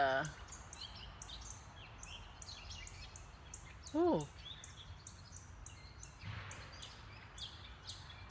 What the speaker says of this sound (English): I think we have goldfinches in our elm tree.